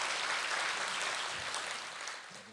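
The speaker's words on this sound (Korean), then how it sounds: "박수를 한번 보내주십시오." Applause from an audience closing a psychology lecture at an academic seminar, a soft, even wash of clapping that slowly fades toward the end.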